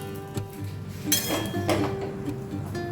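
Tomatoes stirred in a cooking pot with a little salt, giving close, sparse clinks and scrapes of a utensil against the pot over a low steady hum.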